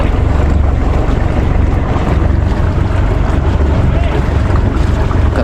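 A motorboat engine drones loudly and steadily through heavy wind buffeting the microphone, with water sloshing around the hull of a Pacific Ocean fishing boat loaded with ropes and stones.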